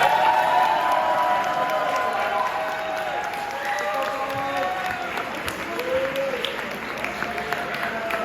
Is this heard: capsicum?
no